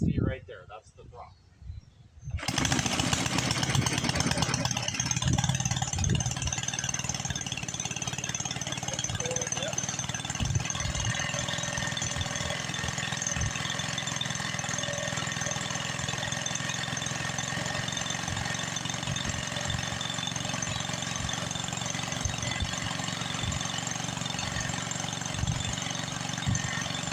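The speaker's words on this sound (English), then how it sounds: "Let them get good and warmed up, and we'll go take a look." Small lawn mower engine idling just off idle while warming up with the choke off, a steady close chugging drone that runs continuously throughout.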